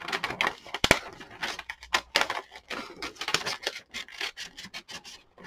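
Paper is cut out by hand to make a window for a journal, giving a close series of short, irregular snips and rustling scrapes, quiet and without talk.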